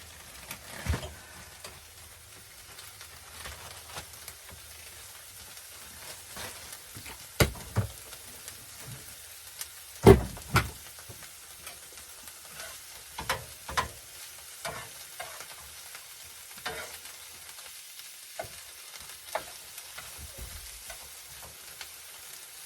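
An omelet fries in a brand new pan on a rainy morning: a soft, quiet sizzle runs throughout, broken by scattered scraping and stirring clicks and a few louder knocks, with no talking.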